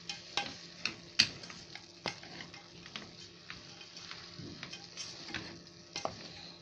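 Liver and meat frying in a pan, stirred with a utensil: a steady soft sizzle broken by repeated sharp clicks and scrapes at an uneven pace, close and fairly quiet.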